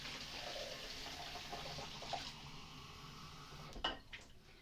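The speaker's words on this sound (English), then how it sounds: "I'm just going to fill up a glass of water." Tap water runs steadily into a glass in a cold home kitchen, a continuous close splashing flow with a brief clink near the end.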